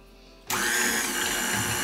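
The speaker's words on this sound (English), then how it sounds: "We're going to turn on the oven." A home kitchen oven switches on to preheat for cookie baking, a steady broadband whirring hum of its fan starting abruptly and then running loud and continuous, with no talk.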